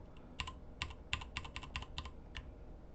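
A burst of quick computer keyboard key presses, including the Page Up key, crisp clicks in an uneven run, close and fairly quiet.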